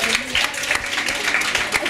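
A school class at a gala nomination event claps on request, a short burst of scattered hand claps from a nearby group, with talk running over it.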